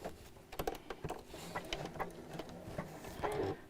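Quiet domestic sewing machine stitching fabric pieces together in pairs for a gift bag, with short bursts of rapid mechanical patter broken by brief pauses and light clicks.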